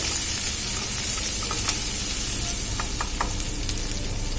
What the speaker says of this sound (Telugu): వేడయ్యాక ఉల్లి ముక్కలు సుమారుగా వేగాలి, ఎక్కువ వేగేదొద్దు.